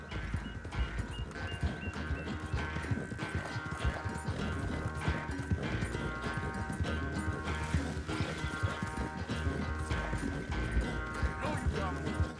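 Rhythmic clip-clop of horse hooves galloping in Red Dead Redemption II, steady throughout under game music and tonal sounds, with a brief whinny and spoken voices.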